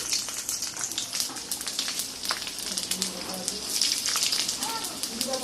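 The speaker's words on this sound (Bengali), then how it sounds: "তেল গরম হয়ে গেছে এবারে তার সাথে প্রথমে কালো জিরে তারপরে দিয়ে দেব রসুন" Nigella seeds and garlic sizzle in hot mustard oil, a dense steady crackle with small pops running throughout, under a voice speaking.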